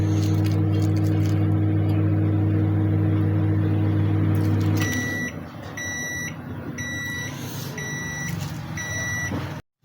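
A microwave oven heating bread pizza hums steadily and loudly, then stops and gives a series of several evenly spaced beeps.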